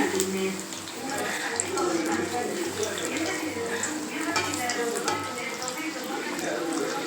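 Masala vadai bubble and fry in hot oil, a continuous close sizzle with soft crackles running underneath a person talking.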